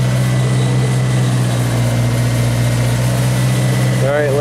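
Genie boom lift engine idling with a steady, loud drone throughout, and a brief rising whine near the end.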